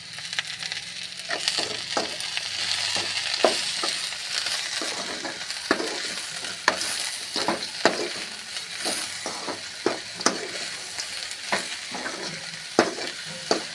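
Shredded cabbage stir-frying in oil in a pan, a continuous close sizzle broken by repeated scraping and stirring clicks of a utensil against the pan.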